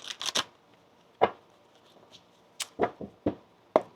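A deck of tarot cards is shuffled by hand in quick riffling bursts, a rapid flurry at the start, then separate crisp snaps and flicks after a pause, close and alone.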